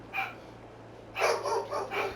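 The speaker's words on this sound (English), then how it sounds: "My dog's going nuts in the background." A dog barks in short bursts in the background, one yelp followed by a quick cluster of two or three barks, moderately distant over a steady low hum.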